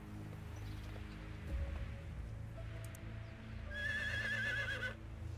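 A horse in the video game Medieval Dynasty gives one clear whinny near the end, over a low ambient game background with light rustling and a soft hoof step.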